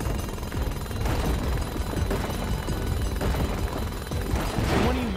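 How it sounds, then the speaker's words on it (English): A drill rattles in The Lego Movie video game, a continuous harsh mechanical hammering that stays loud and even for several seconds over background game noise. "And now let's drill this in."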